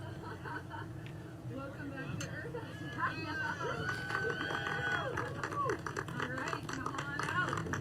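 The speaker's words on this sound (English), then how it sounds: "Some thunderous applause is always a good sign." Applause and cheering from a crowd at a Blue Origin space tourism launch as the capsule hatch opens, building steadily and continuing under a murmur of voices, with scattered claps and shouts.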